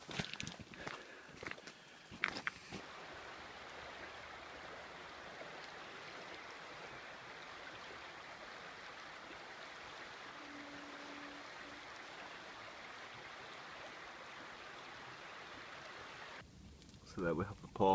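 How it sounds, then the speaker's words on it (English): Steady rushing of a running stream in a woodland, a continuous broad wash of water, with a few crunching footsteps at the start and more movement near the end. "We're just walking to running water."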